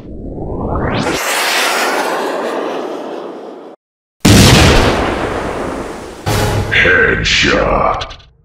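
Gunfire in the Counter-Strike video game ending in a headshot: loud sustained bursts of shots with whooshing blasts, a brief silent gap, then more sharp shots and game effects.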